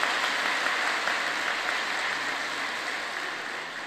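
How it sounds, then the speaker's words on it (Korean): Church congregation applauding a senior choir ensemble, a steady wash of clapping from a crowd, moderately loud and even throughout, with no speech over it. "다시 한번 우리 중창단에게 영광의 박수 올려드립니다."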